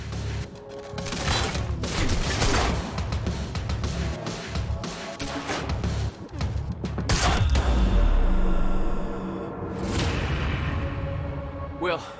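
Dense gunfire from a firefight in the video game Quantum Break: loud, overlapping bursts of shots and booming impacts crackle throughout, with a few brief whooshes and occasional raised voices mixed in.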